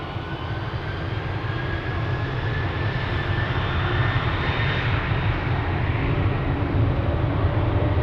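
Airliner rolling onto the runway at Amsterdam Schiphol, a loud, steady engine roar that swells slightly, with no talk.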